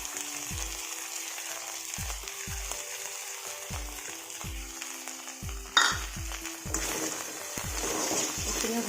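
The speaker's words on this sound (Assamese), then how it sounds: "ইয়াত দিম মই এতিয়া সৰিয়হ, যিখিনি মই পিচি লৈছিলোঁ" Ground mustard paste fries in a pan with a steady, soft sizzle, joined by a repeating pattern of low thumping tones and a brief louder clatter partway through.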